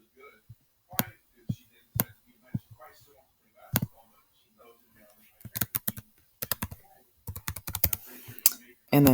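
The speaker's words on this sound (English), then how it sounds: "let's go type in Jane Doe" Keys tapped on a computer keyboard in uneven bursts of clicks, some fast runs and isolated presses, close and moderately loud, with a person talking in between while entering names and numbers into tax forms.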